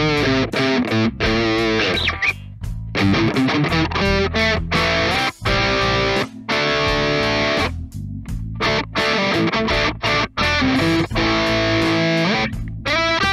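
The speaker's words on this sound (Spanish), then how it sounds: "Ahora, sonido distorsión." A Fender American Vintage II 1963 Telecaster electric guitar played through heavy distortion, with dense, sustained chords and riffs cut by brief stops. It is loud and close, with no talking.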